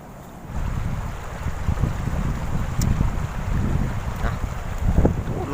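Strong, dry wind blows through trees and buffets the microphone as a steady, rumbling roar with uneven gusts. It swells just after the start and continues throughout, with no talking.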